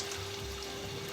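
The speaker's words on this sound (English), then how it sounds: "you'll see that the water will start to actually pour through the other side" Water flushes through a trumpet during cleaning, with the valves held down, making a steady, close trickling and pouring rush that continues unbroken, with a faint constant tone underneath.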